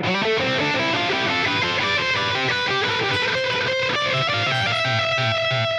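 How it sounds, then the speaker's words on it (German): Distorted electric guitar run through a Helix processor with a delay placed ahead of the distortion, giving a dense, smeared wash of overlapping repeats that clash harshly; steady and loud, with no talking. "Da stören sich die Verzerrungen und die Töne gegenseitig."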